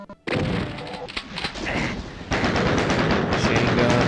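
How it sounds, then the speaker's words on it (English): Rapid machine-gun bursts in the classic Doom shooter, loud and continuous, with dense repeated shots and crashing impacts filling nearly the whole stretch after a brief quiet start. "Machine gun."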